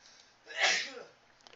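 One sharp sneeze bursts out midway, close and fairly loud, with quiet room sound before and after.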